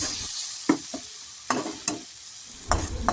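Snake gourd curry with a little sugar is sautéed in a pan. Close, scraping spatula strokes come in irregular bursts over a quiet sizzle.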